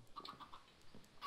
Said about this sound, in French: J'ai balancé 4 œufs, il y a eu 4 poules.